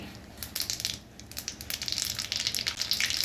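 Spattering crackle of mustard seeds sizzling in hot oil for tempering, starting softly then growing into dense, close popping.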